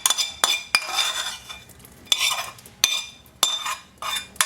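A metal spoon repeatedly scrapes and clinks against a pan while fried vegetables are folded into a creamy white sauce for pasta, the bright strokes landing in an uneven rhythm, close by with no talk.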